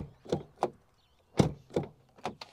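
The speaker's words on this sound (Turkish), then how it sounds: "Şimdi şöyle kapıyı bir açayım." A Land Rover Discovery 3 2.7 TDV6 HSE door being opened, heard as a series of short, close clicks and clunks from the latch and handle, spaced irregularly with quiet gaps between them.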